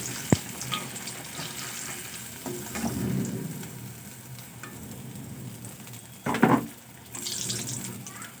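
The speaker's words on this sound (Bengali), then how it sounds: "বাকি মাছগুলোই একই পদ্ধতিতে আমি ভেজে নেব" Fish frying in a pan sizzles steadily with occasional clatters and a louder burst of stirring or turning, the hiss continuous and close throughout with no clear talking.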